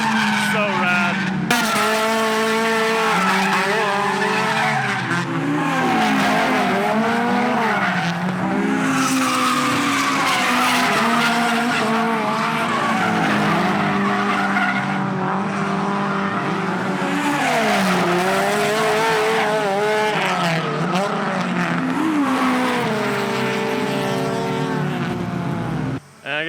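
A Toyota AE86 drifts through a low-angle four-wheel slide at a mountain circuit in Japan, with sustained wavering tire squeal over a revving engine, loud and continuous.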